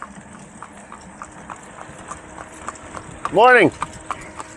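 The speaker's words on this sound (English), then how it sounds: "Horse-drawn cart, because he's just out for a ride" Horse hooves clip-clopping as a horse-drawn cart moves along a country road near New Holland, Pennsylvania, a steady, even trot of sharp hollow knocks passing nearby, with a brief spoken greeting near the end.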